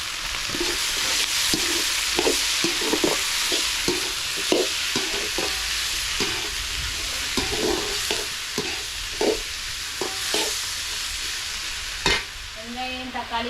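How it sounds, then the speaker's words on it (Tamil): Onion and garlic fry in a pan as they are stirred, producing a constant loud sizzle broken by regular scraping strokes of the spoon, close up and with no voices. "வெங்காயம் பூண்டு எல்லாமே நல்லா வதங்கிடுச்சு இதுக்குள்ளே தக்காளி சேர்த்துக்கலாம்"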